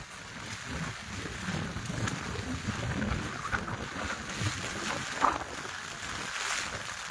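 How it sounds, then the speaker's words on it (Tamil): Strong wind blows at the seaside in rainy weather, a steady, rushing roar of moderate loudness with no voices. "காற்றும் பலமா அடிக்குது உடைய தூக்குற அளவுக்கு அடிக்குது பயங்கரமாக"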